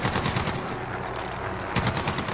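Sustained rapid automatic gunfire aimed at a helicopter in Call of Duty Warzone, loud and close, with dense repeated shots over the whole stretch and heavier bursts at the start and end.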